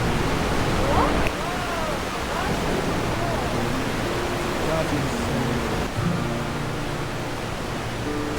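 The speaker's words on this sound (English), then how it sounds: "Now we've got a waterfall, of course. Look how hard it's shooting." Powerful waterfall shooting hard inside a Swiss cave, a steady loud broadband roar filling the whole clip, with a person speaking briefly over it.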